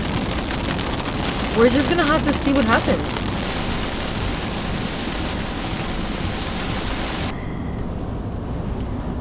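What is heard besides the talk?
pouring rain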